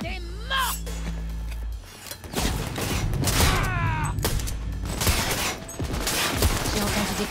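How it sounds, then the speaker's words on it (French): Gunfire in a Cyberpunk 2077 firefight on PC: bursts of shots and mechanical clatter crackle over a low rumble, with game voices talking in between and over the noise. "J'ai entendu des coups de feu, ça va?"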